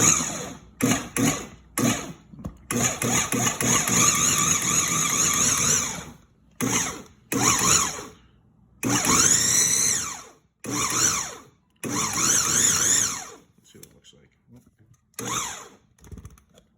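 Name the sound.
food processor pulsing pie crust dough with butter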